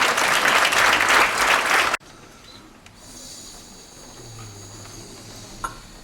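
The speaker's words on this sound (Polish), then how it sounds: "Gorące brawa to wszystkie osoby wyróżnione podczas dzisiejszej inauguracji." An audience at an academic-year inauguration ceremony applauds award recipients, loud full clapping that stops abruptly after about two seconds and leaves a quiet, murmuring hall.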